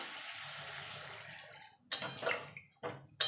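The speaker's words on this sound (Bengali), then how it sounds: "এবার জল দিয়ে দেবো।" Water is poured into a papaya and potato curry with lentil dumplings, first a soft running hiss that fades, then two loud splashing gushes close by, without any talking.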